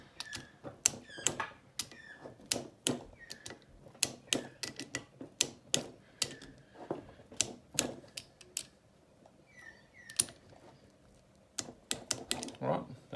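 Sharp, close, crisp clicks repeat in an irregular string against a quiet shop background as a torque wrench tightens the cylinder head bolts on a small outboard motor during a rebuild.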